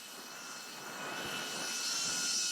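Selfie drone (DJI Neo or HoverAir X1) hovering overhead, a steady high-pitched propeller whine with a soft whooshing edge that grows slightly louder over a couple of seconds.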